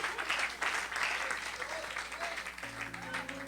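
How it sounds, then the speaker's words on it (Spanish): A Pentecostal church congregation applauds during a sermon, a fairly quiet, sustained spread of clapping that gives way to a steady hum near the end. "Denle el aplauso al Señor."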